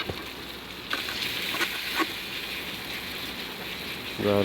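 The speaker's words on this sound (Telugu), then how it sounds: "తరుగుకున్న ఎర్రగడ్డని దోరగా వేయించుకోవాలి" Chopped onion frying in a pan for an egg curry, a steady hissing sizzle that holds at an even level with a few louder crackles and a faint voice underneath.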